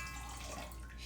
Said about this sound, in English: So we have our 1 cup of water. Just gonna add this in